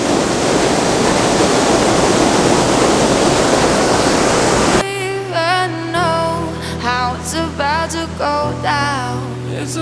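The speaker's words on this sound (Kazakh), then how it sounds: "Ақмешіт сарқырамасы 7 метрге дейін барады, биіктігі." Akmeshit waterfall in Turkistan region, about 7 metres high, gives a loud, steady, close rushing roar for about five seconds before music abruptly takes over.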